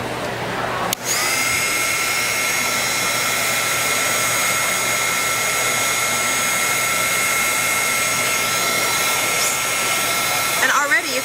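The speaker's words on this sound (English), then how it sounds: "And then blast it with the heat tool." Heat tool blowing hot air onto a painted flower pot, a steady high whirring whine that switches on abruptly and runs loud and close for about ten seconds.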